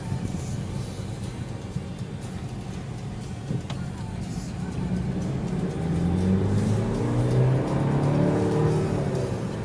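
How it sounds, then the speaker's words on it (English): Twin-turbo engine of a 2013 BMW 328i heard from inside during a ride along, a quiet idle-like hum that swells into a rising acceleration tone over the second half. "You can witness the start-stop engine too."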